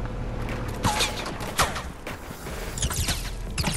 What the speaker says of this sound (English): Oh, someone's shooting at us.